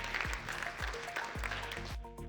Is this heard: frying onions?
no